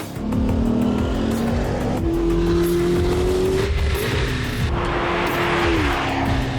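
A 2025 Corvette ZR1 roars hard through a drag race, its engine note climbing steadily through the gears, loud and continuous with no one talking.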